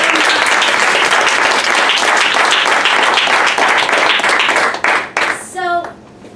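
Loud, dense applause from an audience at a motivational talk, sustained for several seconds before breaking off abruptly, with a voice briefly speaking at the end.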